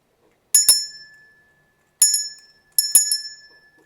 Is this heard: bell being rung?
yes